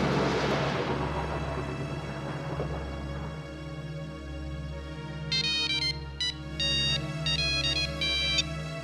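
A phone ringtone plays over an ongoing backdrop of music and ambient noise, its electronic tones arriving in several short repeated bursts during the second half.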